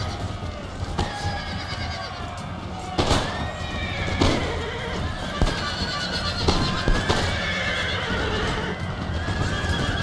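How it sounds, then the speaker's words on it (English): Cavalry horses charge in Empire: Total War, with rapid clattering hooves, repeated whinnies and neighs, and sharp musket-like cracks over a dense battlefield din. "cavalry charge right into my line here"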